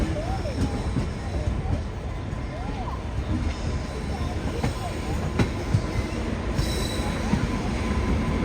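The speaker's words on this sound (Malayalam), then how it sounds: "ഇവിടേക്ക് ഒരു ട്രെയിൻ വരുന്നുണ്ട്." A train arrives at Raipur Junction railway station, heard as a loud, continuous rumble with repeated high wheel squeals and metallic screeches as it rolls close by, with faint voices underneath.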